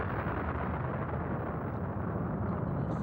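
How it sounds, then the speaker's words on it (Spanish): A huge cosmic explosion effect depicting the Big Bang, a dense, sustained low rumbling roar that fills the whole stretch at steady loudness without pause, with no voices over it. "se genera la gran explosión"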